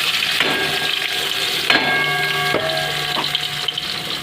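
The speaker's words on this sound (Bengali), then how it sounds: "এই যে ফোড়নে জিরে দিয়ে দিলাম, আর এই যে পেঁয়াজ কুচিটা দিয়ে দেবো।" Chopped onion and cumin seeds frying in hot oil in a pan for a spicy fish curry, giving a steady close sizzle and hiss with a few clinks and faint tonal rings from the utensil.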